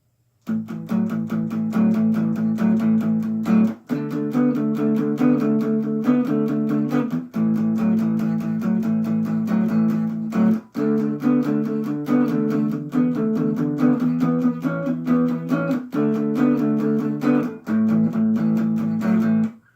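An electric guitar plays a repeating minor pentatonic riff, with a slightly overdriven tone and bright picked notes in a steady rhythmic loop broken by brief pauses, loud and alone for about twenty seconds.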